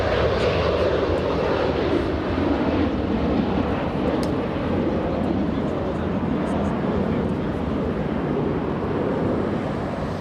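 Boeing 757 airliner engines roaring at LAX airport, a loud, sustained jet rumble with broadband wind-like noise, steady and close throughout, with a voice talking over it.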